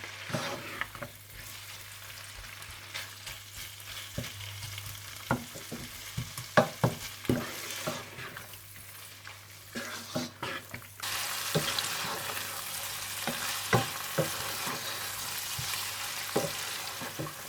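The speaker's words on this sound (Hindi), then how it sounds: "और चिकन क्यूब डालकर अच्छी तरह से भून लें।" Chicken cubes frying in a pan with crushed black pepper and salt, a continuous sizzle with scattered scraping and stirring clicks, getting louder and brighter partway through.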